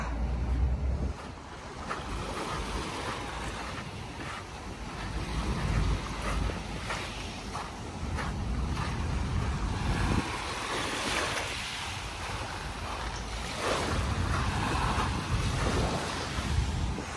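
Waves wash steadily onto a shore, a continuous surging roar with gusts of wind buffeting the microphone; no voices.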